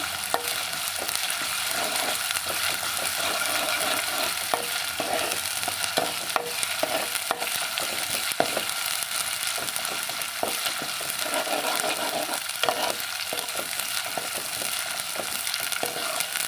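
Ginger garlic paste frying in hot oil while it is stirred, a dense steady sizzle with soft scraping strokes running throughout, close and alone with no voices.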